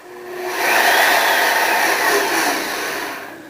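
Electric motor of a homemade bead roller driven by a foot pedal, a smooth whirring hum that quickly ramps up to full speed, holds steady, then slowly eases off, with no talk.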